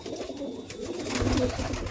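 Soft cooing of Chotiyal pigeons in a loft, a low throaty burble in the second half over a faint ambient background, close by.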